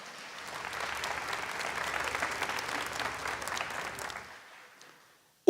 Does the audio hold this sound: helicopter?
no